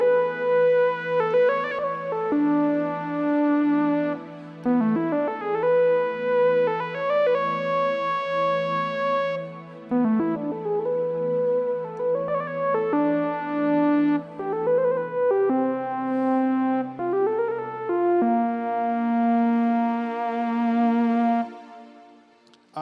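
A Korg Triton synthesizer playing its Express lead patch: a bright, reedy sustained lead line gliding through a slow melody, steady and loud with no voices over it.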